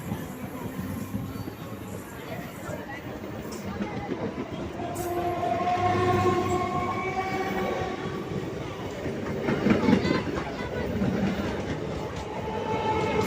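A Chennai local train rolls past nearby, a steady rumble of wagons with rising clatter and faint tonal squeal, heard from a station or platform over ambient crowd noise.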